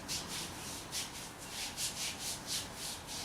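Hands rubbing liniment into fingers conditioned for bamboo-rolling kung fu training, a soft, close, rhythmic swishing friction repeated about a dozen times with no talk.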